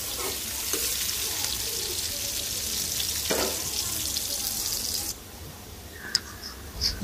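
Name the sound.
onion and dried chilies frying in oil in a wok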